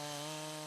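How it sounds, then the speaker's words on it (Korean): A chainsaw runs at steady high revs while cutting a tree during winter logging in Russia, a loud continuous buzzing drone over a brief moment with no voices. "고른 나무의 위치를 잡으면 곧바로 톱질이 시작된다."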